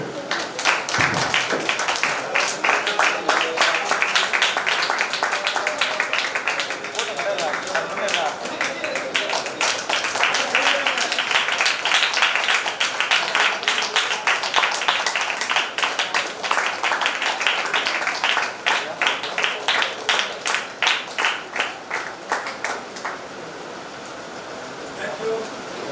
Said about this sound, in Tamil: எல்லாரும் முகத்துக்கு நேராக கரங்களை உயர்த்தி நல்ல ஒரு கைத்தட்டு விடுங்க.